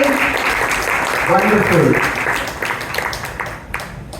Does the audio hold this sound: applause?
yes